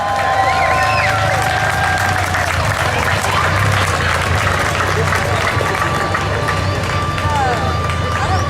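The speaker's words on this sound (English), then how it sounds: "how about a nice round of applause for our cover guard?" A crowd at a St. Patrick's Day street parade in Fort Lauderdale applauds the color guard with continuous clapping and cheering. Steady crowd noise and murmuring voices run underneath the whole time.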